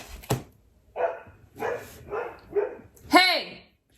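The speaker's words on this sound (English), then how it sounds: "Barking dogs, am I right?" A dog barks five times in sharp bursts, close by, the last bark a high-pitched yelp.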